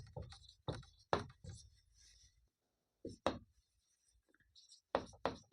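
Pen scratching across paper while working a class 10 maths problem on LCM and HCF: close, quiet strokes in short separate bursts with brief pauses, and no voice.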